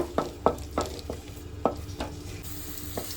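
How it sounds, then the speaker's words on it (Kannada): Chopped onion fries in a pan, a soft continuous sizzle under a series of close, evenly spaced scraping strokes and taps as a utensil turns it, with no speech. "ಒಂದು ಈರುಳ್ಳಿ ಸಣ್ಣ ಕುದ್ದು ಕಚ್ಕೊಂಡಿದ್ದೀನಿ. ಇದನ್ನ ಚೆನ್ನಾಗಿ ಫ್ರೈ ಮಾಡ್ಕೋಬೇಕು."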